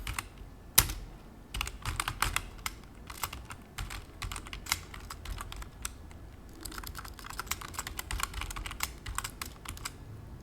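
Rapid, uneven keystrokes on a computer keyboard while code is being typed, clicks arriving in bursts with brief pauses, close and clear with no talking.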